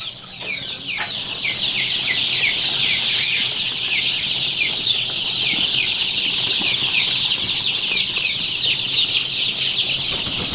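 Tiger breed chicken chicks at a farm in Mymensingh, a dense chorus of high-pitched peeping from many birds together, close and continuous, with faint rustling beneath.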